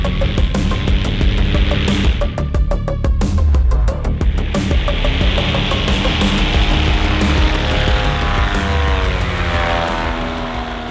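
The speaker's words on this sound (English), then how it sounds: "All right, motor's fired up." A paramotor engine runs loudly and steadily through a launch run in desert terrain with cactus nearby, its buzzing drone holding strong throughout, with no voices.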